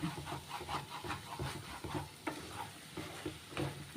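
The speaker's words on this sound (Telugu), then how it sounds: "బాగా ఫ్రై అవ్వాలండి ఇదంతా" Chicken with egg sizzles and fries in a pan while a utensil stirs and scrapes it in repeated strokes, the crackle of frying steady underneath.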